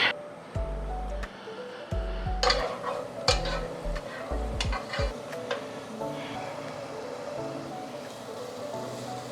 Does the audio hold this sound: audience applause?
no